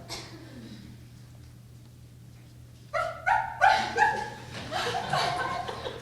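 After a quiet stretch, a person mimics a dog with several short, sharp yapping barks in quick succession, close and fairly loud.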